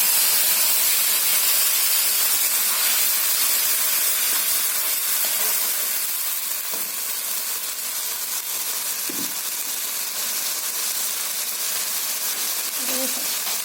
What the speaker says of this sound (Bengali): ওটা আমি কড়াইতে দিয়ে দিচ্ছি তেলের মধ্যে